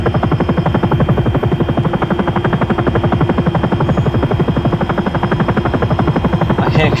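A helicopter flying in X-Plane 11 produces a loud, steady, rapidly pulsing rotor chop over a continuous engine drone, close and unbroken for the whole stretch.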